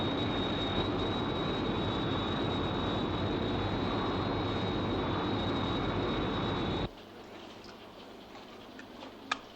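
The Sky 1 interceptor aircraft roars steadily with a whining engine tone, then the noise drops sharply to a faint background hum with a small click near the end.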